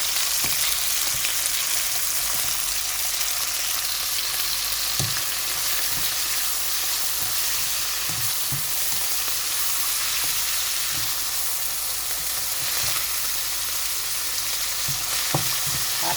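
Pork and garlic stir-frying in a pan for a Thai basil pork dish with mushrooms: a steady, close, loud sizzle and crackle, broken by occasional scrapes and knocks of the stirring utensil, with no talking.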